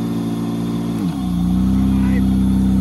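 Hyundai Tucson engine cranks briefly and catches about a second in, settling into a steady, loud idle hum close by, with a voice heard faintly in the background.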